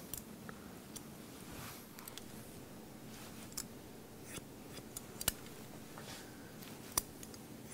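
Scissors cutting a man's hair, quiet close snips and clicks at an irregular pace over a faint background hiss.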